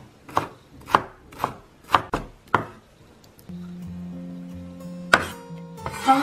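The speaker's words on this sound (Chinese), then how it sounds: "再切成丁儿" A knife dices red pepper on a cutting board in six sharp, evenly spaced chops. After that comes a quiet sustained tone, then a clatter and a few clinks, all close by.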